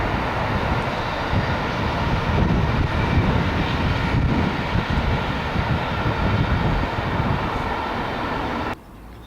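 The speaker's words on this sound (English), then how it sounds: "It's a freighter, it's a freight train." A freight train passing at a distance near a canal path, heard as a steady, broad rumbling roar that holds evenly for most of the stretch, then drops away sharply near the end.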